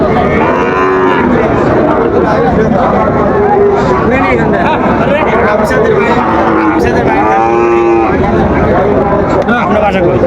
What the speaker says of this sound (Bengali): শাহিওয়াল বাচ্চা আমরা দেখছিলাম